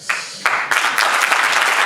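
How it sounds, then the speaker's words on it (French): Applause breaks out at a launch evening for La Voie romaine, starting with a few scattered claps and quickly swelling into a full, loud burst of clapping. "leur abnégation et leur enthousiasme débordant méritent des salves d'applaudissements"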